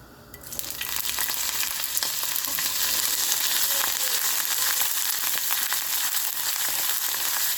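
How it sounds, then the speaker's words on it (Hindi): Mustard seeds crackle and sizzle in a spoonful of hot oil, a loud steady hiss close by with tiny popping bursts that continue throughout. "मैंने यहाँ 1 चम्मच ऑयल में 1 चम्मच राई को तड़काया है"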